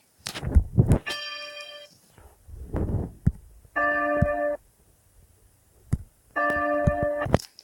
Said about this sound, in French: la cloche 5 a sonné les heures par l'horloge, qui est commandée par l'horloge mécanique